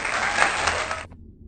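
Applause plays in the horror video game Garten of Banban 4, a loud, dense burst of clapping that cuts off abruptly after about a second, leaving only a faint low hum.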